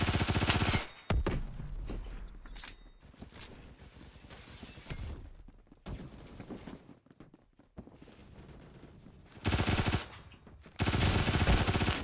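MP5K submachine gun firing in the video game Phantom Forces: loud full-auto bursts at the start and near the end, with quieter in-game shots and movement between them.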